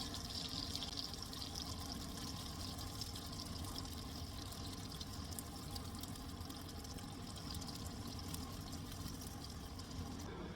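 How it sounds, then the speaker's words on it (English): Canned tomato sauce pours steadily over meatballs in a cooking pot, a continuous wet, liquid rush and trickle that holds at an even level throughout, with no talking. "I'm going to put the tomato sauce over top of them"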